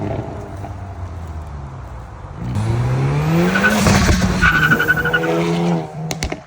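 A salvaged Hyundai Veloster N makes an acceleration pull: the engine note climbs loudly with rising revs and a tire squeal, then cuts off near the end.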